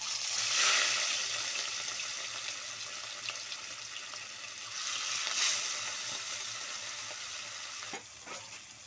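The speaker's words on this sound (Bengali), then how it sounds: "মাছগুলো এবার দিয়ে দিচ্ছি তেলের মধ্যে" Rohu fish pieces fry in hot oil with a steady, dense sizzle and crackle that swells and fades, close and continuous, with a few sharper spits near the end.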